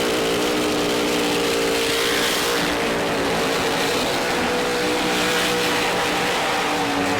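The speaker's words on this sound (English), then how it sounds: "got Dylan Voss, Wes DiStefano doing a burnout" A Pro Stock drag race car doing a burnout at a PDRA drag racing event: a loud, sustained high-revving engine scream with harmonic whine and tire roar, continuous and close.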